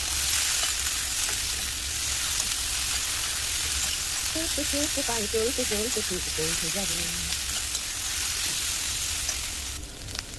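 Potatoes fry and sizzle steadily in a pan with green chilli, salt and turmeric as they are stirred, a continuous close hiss with a brief stretch of voice partway through.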